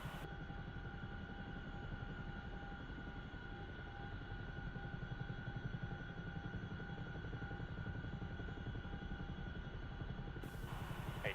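A Chinook tandem-rotor helicopter in the video game DCS World sounds from inside as a continuous heavy rotor and turbine drone with a steady high whine, unbroken throughout.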